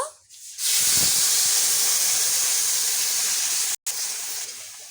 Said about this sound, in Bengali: এখন ফোড়নে খিচুড়িটা দিয়ে দেব